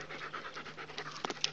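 A dog pants steadily and close, quick rhythmic breaths repeating through the whole moment, with a couple of sharper sniffs or huffs near the end; no one speaks.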